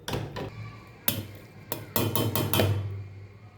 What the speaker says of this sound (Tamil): இப்போ வந்து மிக்சி ஜாரில் வந்து மாற்றிக்கலாம்